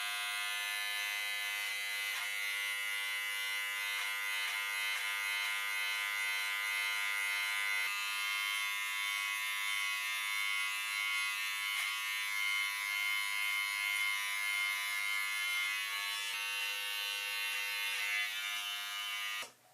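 A Wahl electric trimmer runs steadily and close for the whole stretch, a continuous high buzzing hum while trimming a Van Dyke beard, cutting off abruptly at the end, with no talking.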